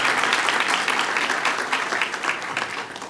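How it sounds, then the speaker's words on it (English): Sustained audience applause fills the hall at a community event in Canada, a dense steady wash of many hands clapping that stays loud throughout and eases slightly toward the end. "Clap for my community."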